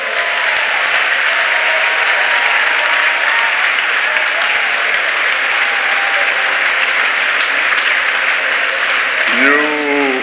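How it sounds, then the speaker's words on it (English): Loud, steady applause from a large church congregation at a thanksgiving service fills the whole stretch, dense and continuous, with a brief rising tone near the end. "Clap for yourself"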